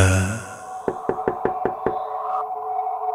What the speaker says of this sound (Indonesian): terdengar suara ketukan pintu di depan.